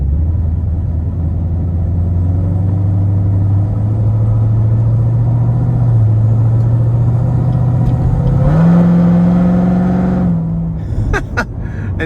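A 2016 Chevrolet Corvette Z06 C7 rated at 815 wheel horsepower, its engine droning steadily under load and then revving higher with a rising pitch before easing off near the end, loud and close from inside the car.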